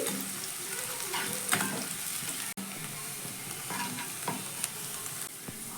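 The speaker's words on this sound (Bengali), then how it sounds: "পেঁয়াজটাকে ভালো করে ভেজে আমি বেরেস্তা বানিয়ে নিচ্ছি" Continuous crackling sizzle of sliced onions frying in hot oil over a high gas flame until crisp, with occasional scrapes and stirring clinks throughout.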